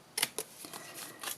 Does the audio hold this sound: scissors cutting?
yes